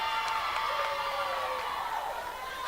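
Steady crowd noise from a college softball game at Camp Ice Field, with a murmuring, cheering crowd at a distance and a few whistles and shouts rising above it.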